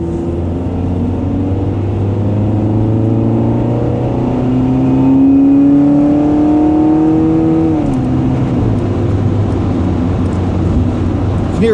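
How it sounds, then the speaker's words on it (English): 1992 Honda Prelude 2.0i with a four-speed automatic accelerating hard, engine note rising steadily then dropping at each gear change, close and loud throughout with no talk. "You can hear all those different gear changes. That's because it's a 4-speed gearbox"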